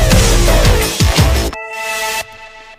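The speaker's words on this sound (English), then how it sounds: "going from the no distortion to distortion gives you a kind of a rise in volume" Tronix synth riser made by switching distortion on, a loud dense roar of wideband rhythmic pulses that swells and then drops into thinner sustained tones, with no voices.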